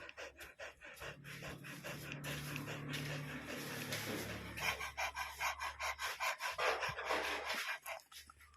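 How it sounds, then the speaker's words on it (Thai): A dog pants heavily after playing with a floor mop, rapid rhythmic breaths close and fairly faint, with some rubbing and shuffling and brief soft human sounds in the background. "หลังจากแย่งไม้ถูพื้นแล้วหอบครับ"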